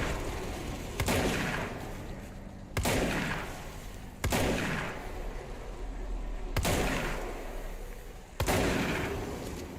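Gunfire in a video game: several sharp, loud shots spaced a second or two apart, each followed by a long ringing decay, with no talk.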